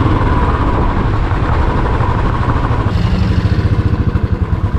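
A Yamaha MT 15 motorcycle engine runs loud and close with a steady, throbbing idle that turns into faster, pulsing firing toward the end, with no talking.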